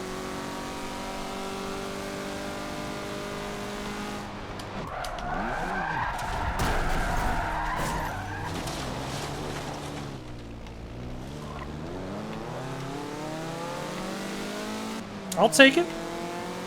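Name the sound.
Mazda MX-5 Cup race cars in Forza Motorsport 7 video game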